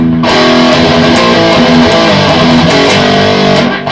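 A loud, distorted electric guitar plays a fast, driving metal riff, dense and aggressive, lasting a few seconds before stopping abruptly.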